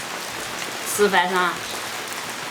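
Rain falls with a steady, soft patter on a surface in the background. A person speaks briefly over it in the middle.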